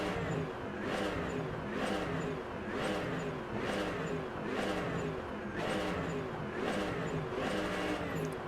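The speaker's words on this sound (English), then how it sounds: "Now listen to the car." A Mercedes-AMG GT3 race car engine in the Rennsport racing game sounds steady and loud, with a repeating rise in pitch about once a second, like rhythmic revving or gear changes over a continuous drone.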